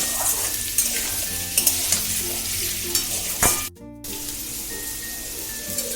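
Potato pieces fry in a pan with a steady bright sizzle, punctuated by clinks and scrapes of a utensil against the pan and a brief dropout partway through before the frying resumes; no talking.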